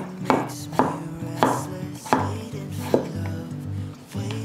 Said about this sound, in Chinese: 把马铃薯切一半